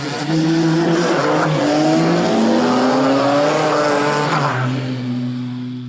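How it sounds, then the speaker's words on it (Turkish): An AI-generated car engine approaches from a distance, grows louder with rising pitch, then passes and fades away; tire squeal accents the pass. "Araba uzaktan geliyor, yaklaşıyor sana, ses artıyor yani orada ve geçip gidiyor seni gibi bir ses sürekli."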